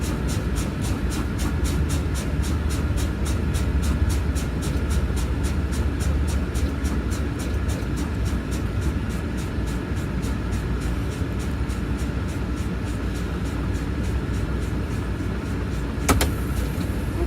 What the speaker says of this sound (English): Now what I want to do is continue to fan my brakes